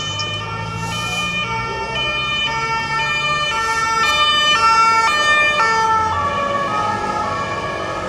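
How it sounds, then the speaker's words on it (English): A French police car's two-tone siren sounds on a Paris street, alternating steadily and loudly for the whole stretch over a constant hum of traffic. "A marked police car, how about that?"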